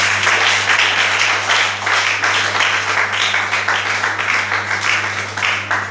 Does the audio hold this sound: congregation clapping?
yes